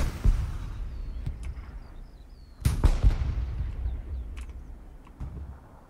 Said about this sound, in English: Artillery's dropping smoke over on this position, looks like.